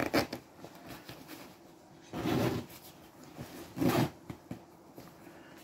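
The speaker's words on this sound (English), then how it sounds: "Zips aren't bad, they sound a bit worse than they are." A zipper being drawn along a new bag, two distinct rasping zips about a second apart with quieter rustling of fabric and handling in between, close up.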